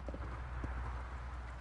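Horse cantering through flying lead changes in a riding arena, hooves thudding in a steady rhythmic clip-clop, moderately close with low background rumble.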